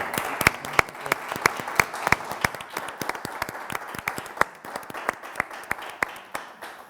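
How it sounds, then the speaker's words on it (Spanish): A small audience claps at the close of an education talk, sparse distinct handclaps in a loose rhythm, moderately close and not very loud, thinning out toward the end. "un aplauso, gracias a todas por estar aquí hoy"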